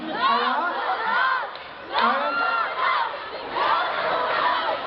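Crowd of fans at a grand fans day event shouting and cheering in several loud surges, bright excited voices rising and falling with short lulls between bursts.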